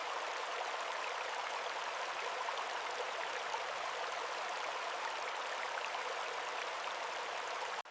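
A flowing stream in autumn woods, a continuous steady rushing hiss of water, moderately loud and unbroken throughout, with no voices or other sounds.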